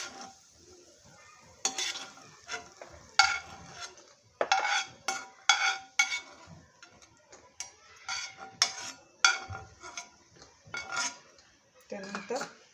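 Fried cashews are scooped out of a pan of hot oil, heard as close, irregular metallic clinks and scrapes of a spoon against the pan over a faint sizzle, with no voices.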